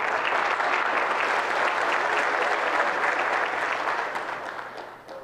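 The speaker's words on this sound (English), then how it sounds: "So let's give them a round of applause." Sustained audience applause at a school district's annual presentation, a dense, steady clatter of many hands that holds evenly before thinning and fading out near the end, with no talk over it.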